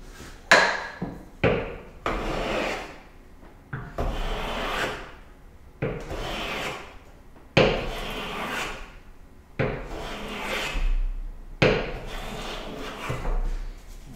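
A smoothing plane shaves the edge of a roughly three-quarter-inch wooden board laid on its side: about seven loud, close strokes, each a sharp onset followed by a hissing, fading shave, repeating at a steady pace.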